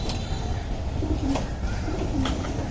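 Domestic pigeons kept at a home loft coo in low, repeated throaty phrases, a few calls close by over a steady background murmur.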